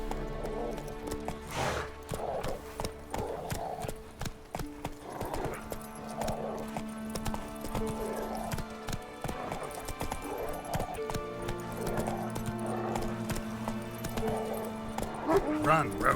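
Roach, a horse in The Witcher 3, gallops with a steady clip-clop of hooves, close and clear, under a man's spoken lines and a brief whinny, against a bed of game music.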